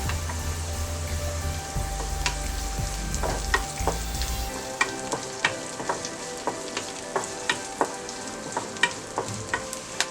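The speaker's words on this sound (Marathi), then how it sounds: "कांदा चांगला ब्राऊन झालेला आहे। शिमला मिरची घालूया," Onion and capsicum stir-frying in a pan, a steady close sizzle with regular clinks and scrapes of a spoon against the pan, no talking.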